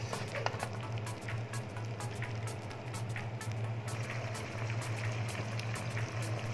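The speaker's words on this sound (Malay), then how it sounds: "Kita masak lagi sampai sos tu masak." Sardine sauce for sambal simmering in a pan, a soft continuous bubbling with faint pops and a low steady hum underneath, quiet and close, with no talking.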